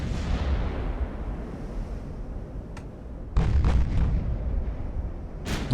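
Naval guns fire high-explosive shells in the warship game Ultimate Admiral: Dreadnoughts, heavy booming reports over a constant rumbling battle din, with a couple of sharp cracks and a loud burst of firing near the end.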